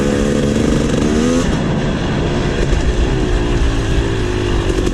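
A KTM 300 XC two-stroke dirt bike engine drones loud and close during a trail ride, its pitch shifting as the throttle changes, with a continuous raspy buzz throughout.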